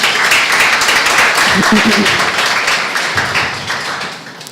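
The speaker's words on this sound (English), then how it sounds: "Can we give another round of applause to Richard?" An evening event audience gives a round of applause for a performer, loud dense clapping that gradually thins and fades out, with a brief voice rising through the middle.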